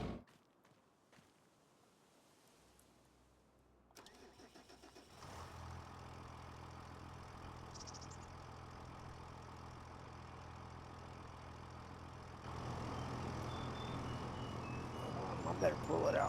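A red tractor's engine cranks and catches after a few quiet seconds, then settles into a steady low idle that grows louder near the end, with footsteps and someone talking over it.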